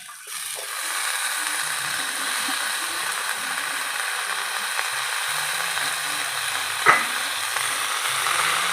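Pumpkin greens go into a pan of fried potatoes and sizzle steadily, a bright continuous frying hiss close to the microphone, with a single sharp clink of a utensil partway through and no talking.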